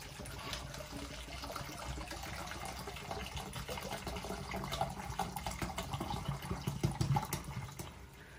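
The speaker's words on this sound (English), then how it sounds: "just gonna pour the whole thing in here" Fragrance oil for a homemade room spray is poured into a bottle in one continuous trickling fill, with a faint hum underneath and the stream growing slightly louder toward the end.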